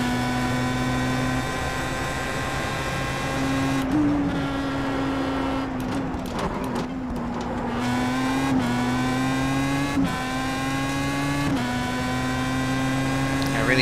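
Pro Mazda race car in the iRacing sim at Barber Motorsports Park, its engine whining at high revs and climbing in pitch, then dropping sharply at each upshift, with several shifts in a row and a brief lift mid-run.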